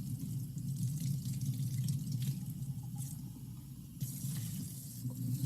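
A kitchen tap runs steadily into a sink while dishes are rinsed, a constant close stream of water with occasional clinks and splashes of items being handled and no voices.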